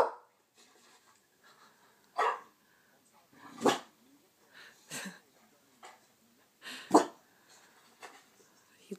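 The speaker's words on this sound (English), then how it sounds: "Barking at himself." A dog barks at its own reflection indoors: a series of sharp, separate barks spaced a second or so apart, loud and close, with quieter gaps between them.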